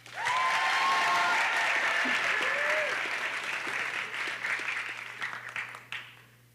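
Audience applause at a high school band spring concert for a graduating senior, loud sustained clapping that swells at the start and tapers off, with a voice briefly heard partway through.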